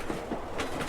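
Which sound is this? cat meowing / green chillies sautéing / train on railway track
train on railway track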